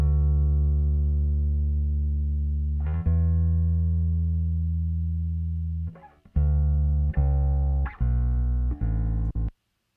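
Bass guitar track with the high end rolled off to cut electronic hum, playing long sustained low notes that then break into shorter plucked notes, close and dry with no voices.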